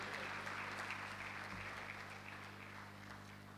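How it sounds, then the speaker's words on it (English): Audience applause at a university founders' day ceremony, a steady, dense wash of clapping from a large crowd throughout, fairly distant and even, with a faint low hum underneath. "Can we please applaud him again as he goes back to his seat?"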